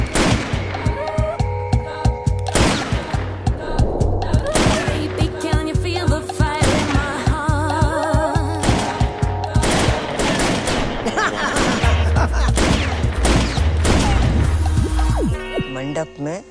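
Gunfire in a Bollywood film scene, with repeated machine-gun-like bursts and impacts over loud dramatic music and effects throughout, and voices talking at times.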